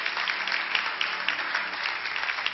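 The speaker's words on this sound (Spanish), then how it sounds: "Dale un aplauso a Jesucristo." A church congregation claps together during a sermon, a steady, fairly faint wash of applause that carries on evenly from start to finish without a voice over it.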